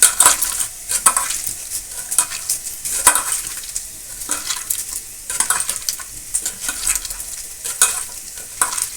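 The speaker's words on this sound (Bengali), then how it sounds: "পেঁয়াজটাও ভাজা ভাজা হয়ে গেছে" Onions frying in a pan with garlic, steady sizzle broken by repeated scraping stirs and occasional clinks of a utensil against the pan, close and fairly loud with no talking.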